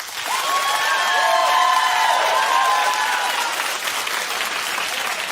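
Studio audience at a daytime talk show clapping in a steady, loud burst, with some whoops and shouted voices rising above the applause early on before it tapers slightly.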